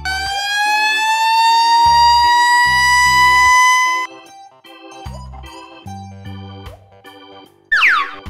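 A toy red fire truck siren wails loudly in a rising, sustained tone for about four seconds, followed by xylophone notes being struck and a brief siren burst at the end.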